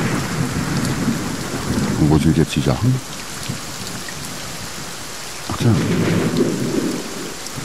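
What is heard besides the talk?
rain and thunder in the video game Reign of Kings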